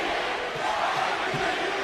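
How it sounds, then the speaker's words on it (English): Wrestling arena crowd at a Shawn Michaels versus Rob Van Dam World Heavyweight Championship match, a dense, steady roar of many voices chanting and cheering continuously, loud and unbroken throughout. "Half the crowd's got an HBK chant going, the other half's got an RVD chant going"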